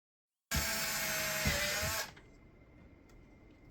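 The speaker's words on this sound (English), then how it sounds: "to cut the hole, I'm going to drill 2 holes" A drill bores a hole in ABS plastic for an e-bike battery box, a close, whining burst of about a second and a half that cuts off abruptly, leaving a faint motor hum behind.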